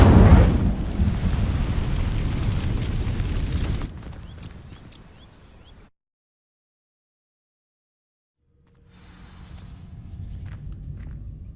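Incendio fire spell setting dry vines ablaze in Hogwarts Legacy: a loud roaring, crackling whoosh of flame that cuts off, leaving a fading rumble, then silence before quiet ambience returns.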